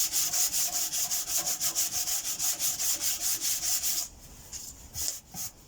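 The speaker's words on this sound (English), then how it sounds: "Fortunately this filler sands really easily" Body filler being sanded by hand on a modified Honda CB125F petrol tank, with a steady rhythmic rasping of back-and-forth strokes that stops after about four seconds and gives way to a few softer rubs.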